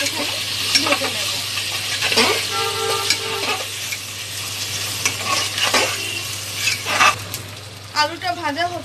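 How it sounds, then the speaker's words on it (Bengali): Boiled potatoes frying in a pan and being stirred, with a crackling sizzle broken by scraping and clinking strokes against the pan, close up over a low steady hum. "এবার আলুগুলো একটুখানি ভেজে নেব।"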